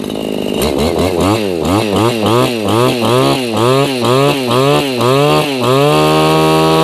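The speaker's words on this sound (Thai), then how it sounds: "เดี๋ยวอ่ะเรามาลองเร่ง กัน จะลองเร่ง เครื่องนะ" A TOSAKA NB411 two-stroke brush cutter engine revs up and down repeatedly in quick bursts, its whining pitch rising and falling about a dozen times before settling into a steady high idle.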